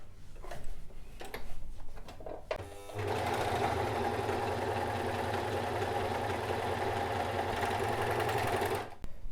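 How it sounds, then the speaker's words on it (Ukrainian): After a few sharp handling clicks, a Necchi Creator C12 overlock machine sews a four-thread seam on knit fabric with a loud, steady, rapid mechanical whirr that runs for about six seconds before stopping abruptly. "Подивимось звичайний чотирьохнитковий шов на трикотажі."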